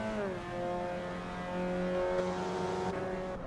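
A race car engine in the LFM racing game winds down through downshifts. The whine drops in steps as the gears change, then steadies. It is loud and close, with no voices.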